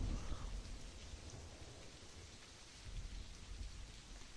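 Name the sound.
rain falling in a dating sim video game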